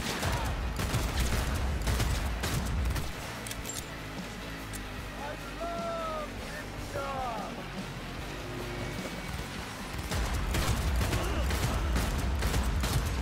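Bursts of gunfire from Jackie's iconic guns in Cyberpunk 2077, fired slowly at a low rate, with dense clattering shots at the start and again near the end and a quieter stretch between.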